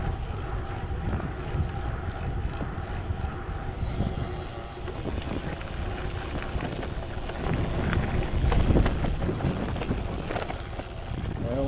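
Steady low wind rumble buffeting a microphone outdoors while cycling into a light headwind on a gravel ride, with some faint speech and rattling underneath.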